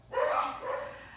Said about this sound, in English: Oh, my dogs are so high-strung.